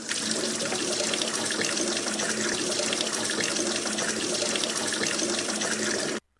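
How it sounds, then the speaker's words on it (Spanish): Water gushes steadily from an opened bathroom tap, a loud, even, close splashing rush that runs for about six seconds before cutting off abruptly. "Acercó el recipiente improvisado al grifo y lo abrió."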